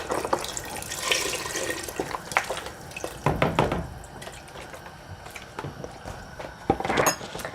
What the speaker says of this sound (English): I'm gonna add a little more broth.